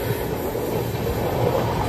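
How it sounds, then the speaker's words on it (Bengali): The Rajdhani Express runs at speed: a dense, continuous rumble of wheels and carriage from inside the coach, loud and steady throughout, with no voices. "কিন্তু আমাদের ট্রেনটা চলছে"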